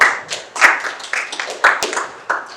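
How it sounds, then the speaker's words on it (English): Scattered, uneven hand clapping from a small audience at a tech-for-jobs summit in Kenya, a brief round of applause for a speaker with sharp individual claps rather than a dense roar. "you can give him a round of applause"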